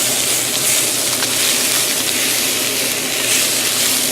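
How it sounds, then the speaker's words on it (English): Minced garlic hits a hot skillet with softened onions for a spicy spaghetti dish, giving a loud, continuous frying hiss that holds steady throughout. "So now I'm going to add in the minced garlic"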